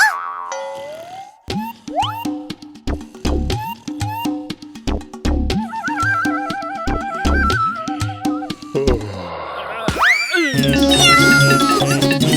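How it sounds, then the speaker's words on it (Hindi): An animated cartoon cat meows amid bouncy boing effects and cartoon music, with several bright, rising and falling cries standing out loud against the busy soundtrack. "कोई बिल्ली है।"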